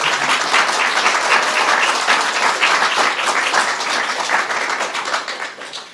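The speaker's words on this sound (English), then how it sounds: "You may applaud" Loud, dense applause from the audience at a government swearing-in ceremony, close and continuous for about six seconds before tapering off at the end.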